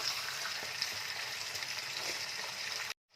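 A fish head frying in a pan makes a continuous, moderate sizzle with a watery hiss that runs evenly and then cuts off abruptly near the end.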